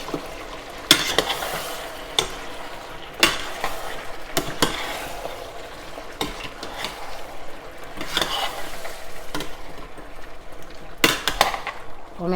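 Frozen spinach stirred in a cooking pot with a spoon, giving repeated wet scraping strokes and sharp clanks against the pot at an uneven rhythm, close up over a steady light sizzle.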